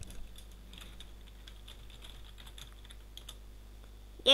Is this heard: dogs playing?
no